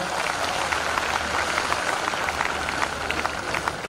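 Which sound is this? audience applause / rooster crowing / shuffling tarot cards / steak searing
audience applause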